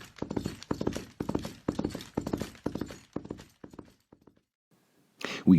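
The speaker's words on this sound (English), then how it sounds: "We rode hard all the way till we came to Dr. Livesey's door." Horse hooves clip-clop in a steady, fast rhythm as riders travel hard on horseback toward a doctor's house, loud and close for several seconds, then thinning into a few scattered hoofbeats before a brief burst of other sound at the end.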